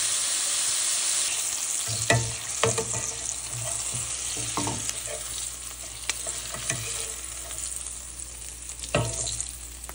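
Gluten-free squid frying in shallow oil, a steady bright sizzle under repeated scraping and clattering stirring strokes with a utensil in the pan, continuous for the whole stretch.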